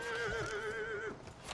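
A horse in the video game Dragon Age: Inquisition lets out a wavering, drawn-out whinny lasting about a second, fairly clear over low background noise, then trails off into quieter ambience.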